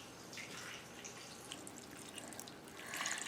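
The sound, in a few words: pouring canned beef broth over meatballs in crockpot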